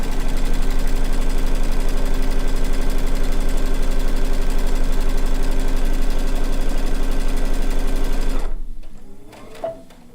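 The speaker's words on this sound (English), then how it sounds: "Let's get the sewing going." A sewing machine stitching a blue and white quilt top, running fast in a steady, even mechanical whir for several seconds before stopping abruptly, followed by a few small handling clicks.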